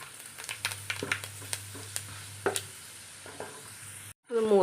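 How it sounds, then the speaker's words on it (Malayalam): Fenugreek seeds drop into hot oil for an Onam ginger curry and crackle in short, sharp pops over a steady low sizzle, near and clear, ending in a brief silence before a louder burst of frying. "നമുക്കിനി കുറച്ച് ഉലുവ ഇട്ട് കൊടുക്കാം."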